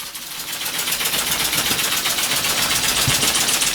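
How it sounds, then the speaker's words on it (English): A model steam engine runs with a steady, rapid chuffing beat, close and moderately loud, gradually building slightly in level over a few seconds with no talk. "What a lovely engine."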